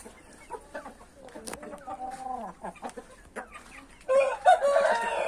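Backyard chickens and pullets cluck and call in several short, nearby bursts, with a louder, denser flurry of squawking near the end against a quiet background.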